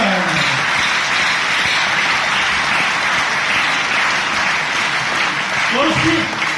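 Loud, sustained applause from a crowd, a dense steady clatter of clapping that fills the whole stretch without a break.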